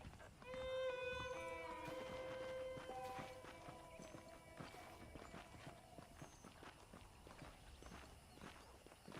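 Saddled horses in Red Dead Redemption walk with a steady clip-clop of hooves, heard alongside sustained tonal game music that fades after a few seconds, leaving the hoofbeats under quieter ambience.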